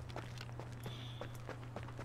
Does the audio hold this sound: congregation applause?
no